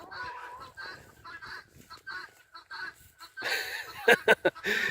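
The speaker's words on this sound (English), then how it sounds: "I don't know if you guys heard that over the guinea squawking" Loud, harsh guinea fowl squawks repeat in uneven bursts, rising to a sharp cluster of honking calls near the end.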